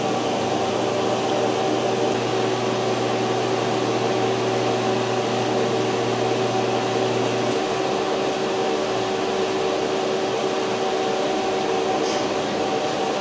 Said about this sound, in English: you can see now that the vacuum is in progress